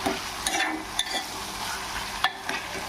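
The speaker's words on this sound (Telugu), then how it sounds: "తిప్పుకుంటూ ఉండాలండి, లేకపోతే అడుగంటుతుంది." Tindora (ivy gourd) fries in oil in a pan with a steady sizzle, close and clear, broken by repeated scraping taps of a spoon stirring the pieces.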